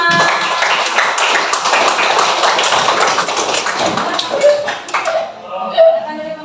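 Classroom applause for a student group: dense, steady hand clapping from many pupils fills the first four seconds, then thins out into scattered claps and a few light taps with brief murmurs.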